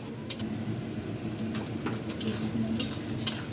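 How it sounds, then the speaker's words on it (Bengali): Bitter gourd and shrimp in a pan, giving a low, steady sizzle with several sharp scrapes and clinks of stirring scattered through it, fairly faint and with no talking. "চিংড়ি মাছ দিয়ে করলা ভাজি করতেছি"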